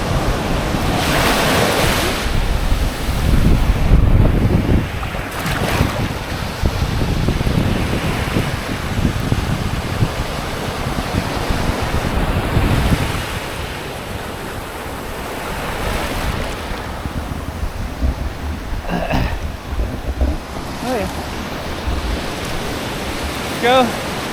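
Waves wash onto a Mediterranean beach at Ksar es Seghir in October while wind buffets the microphone, a steady roaring surge that swells loudest early on and settles into a softer rolling hiss.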